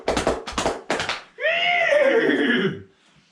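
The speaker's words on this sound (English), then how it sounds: "they jumped onto their horses" A horse gives a loud, close whinny lasting over a second, its pitch rising then falling, following a few quick bursts of hoof or body noise at the start.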